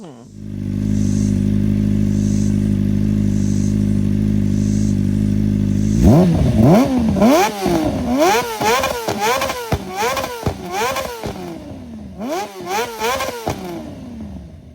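A Kawasaki Ninja ZX-4RR motorcycle with a loud aftermarket exhaust idles with a deep burble, then revs repeatedly in sharp rising bursts, close and loud.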